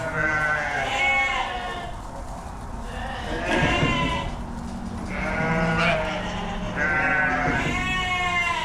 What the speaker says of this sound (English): Nice set of young ewes.